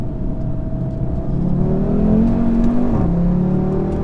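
A 2018 Audi RS3 engine revs hard under acceleration in manual mode with traction control off, a loud rising drone climbing in pitch through a gear, then briefly dipping before pulling again.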